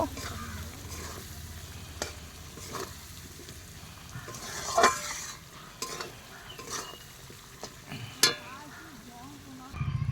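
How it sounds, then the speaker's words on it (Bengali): Spice paste with cut potatoes fries and is stirred in a pan over a wood fire, sizzling steadily with irregular clinks and scrapes of the utensil against the pan, a few sharper knocks standing out. "আমি কিন্তু আলু কাটা দিয়ে দিয়েছি মশলার মধ্যে, দিয়ে এখন একটু ভালো করে কষিয়ে নিব।"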